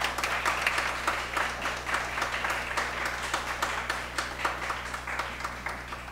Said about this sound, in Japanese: 皆様には拍手を持ってお答えください。